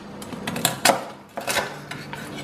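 A knife slices through crispy roast pork, giving a few sharp crackling crunches and scraping bursts against a plate or board, close and fairly loud in separate strokes with short pauses between them.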